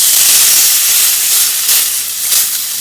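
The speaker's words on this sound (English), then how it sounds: "add in your chicken away from you." Chicken pieces sizzle loudly in a hot, oiled grill pan for a burger, a continuous bright hiss with brief surges as the meat settles.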